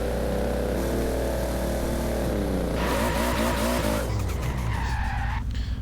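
A 1600-plus horsepower Toyota Supra drag car in Forza Horizon 4 launches hard, tires shrieking in a long, loud squeal over a droning, revving engine whose pitch climbs and wavers as the wheels spin.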